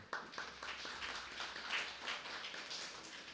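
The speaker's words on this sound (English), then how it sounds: "Can we applaud them?" An audience at a primary school gathering gives faint, distant applause, a soft continuous patter of many hands clapping with no talk over it.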